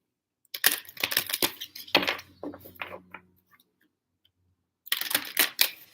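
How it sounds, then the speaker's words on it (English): Crisp, rapid riffling bursts of cards being shuffled, several quick flurries, then a pause before another close shuffle. "Let me shuffle a little bit more."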